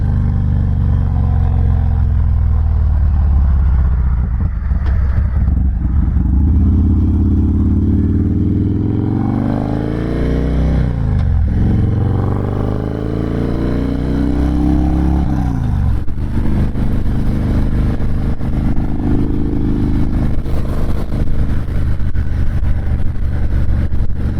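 Harley-Davidson Dyna Low Rider S motorcycle cruising, its engine a steady, loud, close rumble with brief shifts in pitch as the rider eases on and off the throttle, no talking over it.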